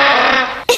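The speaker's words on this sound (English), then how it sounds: "That's the spall throttle." A silly elf band instrument known as the spall throttle, from a cartoon, lets out a wavering, droning bleat that sags and fades, breaks off briefly, then ends in a short higher squawk, loud and unaccompanied.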